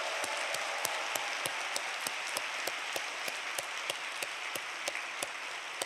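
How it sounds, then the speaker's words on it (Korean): A church congregation applauds during a special early-morning prayer service. Soft, continuous clapping runs throughout, with sharp, regularly spaced claps standing out in an even beat. "우리 다음 세대를 위해서 박수를 한번 뜨겁게."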